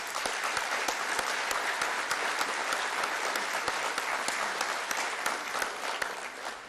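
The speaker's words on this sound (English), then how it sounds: "Let's give them a round of applause." An audience at a city address applauds a pipes and drums band, a sustained wash of many hands clapping at a steady level, fairly distant and without any voices over it.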